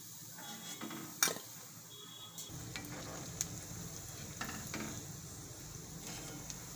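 Dana vadi, a Gujarati snack, frying in hot oil in a home kitchen, with a steady sizzle throughout, a sharp clink of a utensil near the start and occasional stirring scrapes against the pan.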